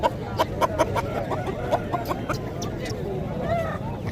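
A rooster at a livestock market in Dera Ghazi Khan clucks in short repeated bursts close by, with a rough rising call near the end, over background chatter and outdoor noise.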